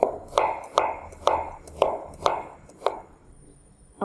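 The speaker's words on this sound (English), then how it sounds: "So, gonna be chopping." A knife chops garlic on a cutting board in a Cambodian home kitchen, seven crisp evenly spaced strikes about half a second apart, close and clear with no talking.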